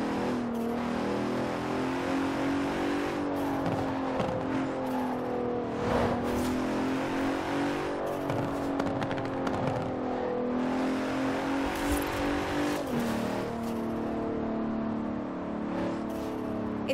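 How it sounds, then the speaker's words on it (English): Bentley Continental Supersport, a 2017 all-wheel-drive car, driving in the video game Forza Horizon 4: a steady, loud engine drone with rising and falling revs and gear shifts throughout, no talking. "Continental Supersport is responsive, fast, and beautifully designed."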